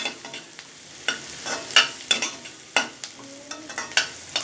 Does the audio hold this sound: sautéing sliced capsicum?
yes